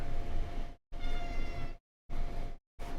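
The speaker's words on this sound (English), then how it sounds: "Do you hear the cat?" A cat meows repeatedly, four drawn-out cries separated by short silences, fairly close and clear with no talking.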